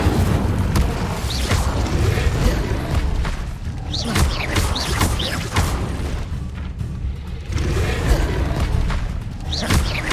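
A fire spell cast in Hogwarts Legacy on PS5 erupts as a dense, continuous roar of booms and thuds with repeated bursts, loud and close throughout amid busy game effects.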